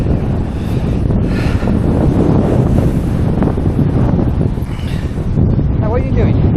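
Strong wind buffets the microphone at a seaside beach at Anderby Creek, a loud continuous roar with surf mixed in beneath it.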